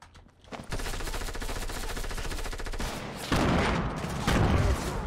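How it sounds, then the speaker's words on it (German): A burst assault rifle firing in Fortnite Battle Royale, a long steady rattle of rapid shots, loud and close, followed by heavier blasts, with no talk. "Oh nein, das ist ein Salvensturmgewehr."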